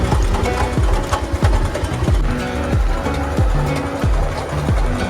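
A motorbike engine runs close by with a rapid, buzzing idle and repeated throttle blips that rise and fall in a steady rhythm.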